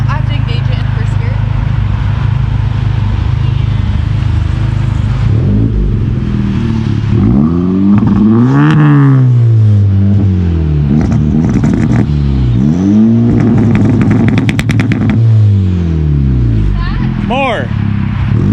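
A tuned Honda Type R car engine starting and revving, with loud rising and falling revs that sweep up and back down several times, close to the microphone, while people talk over it.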